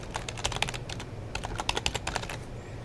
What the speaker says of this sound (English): So you just type the first few